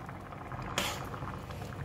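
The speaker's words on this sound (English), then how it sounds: "See, the Asam Jawa or the tamarind is boiling." Tamarind (asam jawa) pulp simmering in water in a pot, giving a steady low bubbling and rumble with one sharp clatter partway through.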